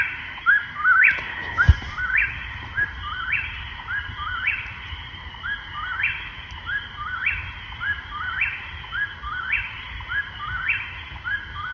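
Whip-poor-will calling at night along a quiet village street, a steady series of loud, clear repeated three-note whistled phrases at a brisk regular rhythm over faint background hiss.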